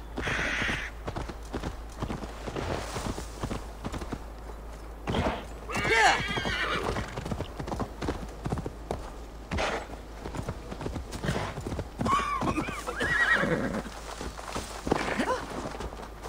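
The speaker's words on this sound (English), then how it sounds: "You gotta love the magic horses in video games." In-game horse sounds from Assassin's Creed Valhalla: hooves clip-clopping along with repeated whinnies and snorts, fairly close but moderate in level, mixed with soft game ambience.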